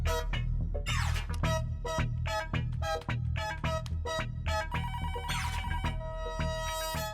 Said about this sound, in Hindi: फोन कब से बज रहा है, उठाओ ना उसे।